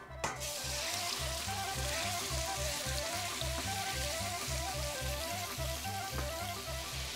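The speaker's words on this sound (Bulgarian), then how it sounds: "Когато пържите месо за кебаб, сгорещете добре мазнината." Meat for kebab fries in well-heated fat, a steady, dense sizzle and crackle that runs loud and continuous for several seconds with no talk, while a faint rhythmic music bed plays underneath.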